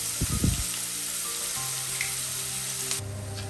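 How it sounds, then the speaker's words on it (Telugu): Fish pieces and green chillies sizzling in hot oil for a dried-fish coconut curry, a loud steady crackle that opens with a few quick utensil taps and then holds evenly to the end. "ఆయిల్లోనే ముక్కలు పచ్చిమిరపకాయలు కూడా వేస్తాం"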